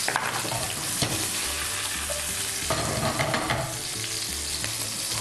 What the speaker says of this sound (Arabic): هزود زيت علشان يقلل من درجة حرارة الطاسة معايا، عشان هي طبعا سخنة جدا. وهنزل بالبصل، وهنزل معايا بالجزر